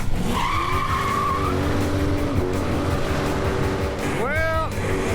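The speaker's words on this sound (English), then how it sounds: "he's got a burnout contest going on" A drag car's burnout at a drag strip, loud engine roar with squealing tire tones rising and falling, a sharp rising squeal near the end, close and continuous over crowd and commentary noise.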